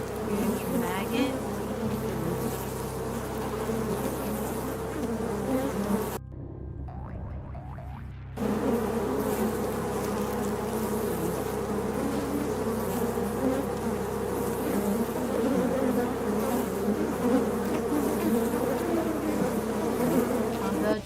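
Flies buzz steadily in Shadows over Loathing, a continuous insect drone with game ambience that drops out briefly partway through, then resumes at the same level.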